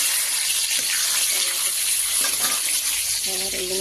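Five-spice seeds (panch phoron) crackling and sizzling in hot oil in a kadai after frying fish, a loud continuous hiss up close, with a voice briefly speaking near the end.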